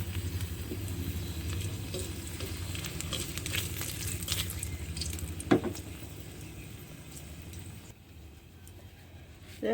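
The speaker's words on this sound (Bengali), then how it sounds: "তেল গরম হয়ে গেছে আমি আর দুটো শুকনো মরিচ দিলাম" Dried red chillies fry in hot oil in a wok, giving a soft, steady sizzle and crackle with one brief clatter midway. The sound stays fairly faint and fades slightly toward the end.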